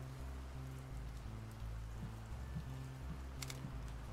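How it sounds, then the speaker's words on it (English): Steady rain falls in the video game Kingdom of the Dead, a continuous wash of patter and drops under a low droning ambient bed, with no speech. "I hear rain"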